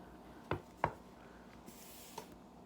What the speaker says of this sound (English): let's go ahead and cut into my boiled cheeseburger